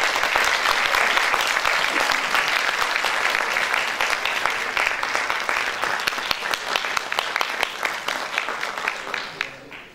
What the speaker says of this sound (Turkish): Alkışlarımız şefimiz Hikmet Ulutaş için.